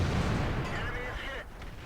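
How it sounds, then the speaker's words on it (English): Heavy boom of the ISU-152 tank destroyer's big-bore cannon in World of Tanks, a single deep blast that rolls out and decays within about a second and a half, with a voice talking over it. "The troll cannon in action."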